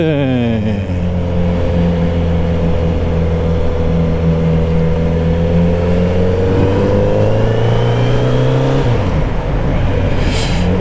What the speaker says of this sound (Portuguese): a bordo da Kawasaki Z900 RS Special Edition